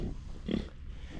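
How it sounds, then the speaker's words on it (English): A short, low pig grunt close by, rising briefly over a steady background hum. "My crazy pig."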